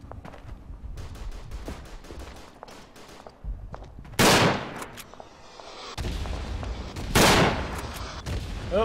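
Mortar shells land in the Verdun video game as several sharp, heavy blasts around 4 and 7 seconds, loud and close, each followed by a rumble, with scattered rifle fire throughout.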